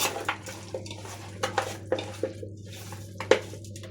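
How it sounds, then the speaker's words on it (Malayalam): Beef being hand-mixed with coconut oil, giving soft, wet squishing and light clicks against a bowl in sparse bursts, close and fairly quiet over a steady low hum. "കുറച്ച് വെളിച്ചെണ്ണ ഒഴിച്ച് കൊടുത്തിട്ട് നമുക്ക് കൈ കൊണ്ട് നന്നായി മിക്സ് ചെയ്യാം"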